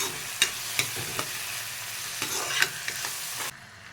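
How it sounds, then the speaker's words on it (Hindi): A spoon stirs chopped tomatoes and onions frying in a pan for mustard-greens curry, with a steady broadband sizzle and several sharp scraping clicks, close and fairly loud, before the sizzle drops off near the end. "टमाटर अभी डाल दिया कि ये गल सके, तो अच्छी तरह से मिक्स हो जाए टमाटर प्याज के साथ।"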